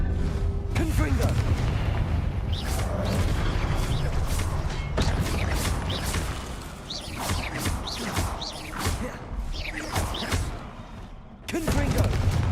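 Confringo fire-blast spells burst repeatedly in Hogwarts Legacy, a series of loud booming explosions and crackling impacts in irregular succession, with a voice talking over the action.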